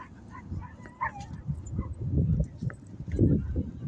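A dog at a dog beach gives soft yips and whimpering barks, fairly faint and scattered, over low outdoor rumble and wind.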